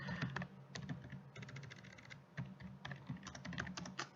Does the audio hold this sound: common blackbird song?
no